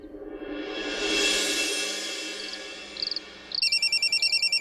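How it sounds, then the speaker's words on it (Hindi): An electronic phone ringtone trills in repeating bursts at a household, swelling from a soft electronic tone into a steady, evenly pulsed ringing that grows clearer toward the end. "अरे राजू, जरा देख तो, फोन आ रहा है।"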